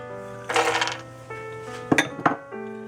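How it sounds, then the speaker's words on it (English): Almonds and cashews tumble into a pan slicked with extra virgin olive oil, giving a few bright clattering bursts of nuts striking metal over a faint steady hum. "I'm going to add some almonds, some cashews,"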